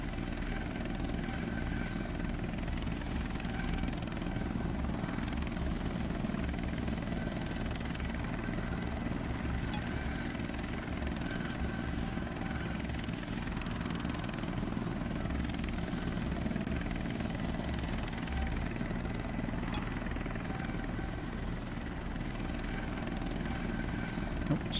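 Military helicopters in an arcade flight game, including a Hind gunship, drone with a steady loud rotor and engine roar that fills the whole stretch without pause.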